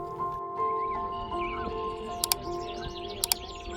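Bird song along a marsh trail beside Rondeau Bay on the Lake Erie shore during spring migration, with faint chirps and short warbling calls over a steady outdoor hum, plus two brief sharp clicks.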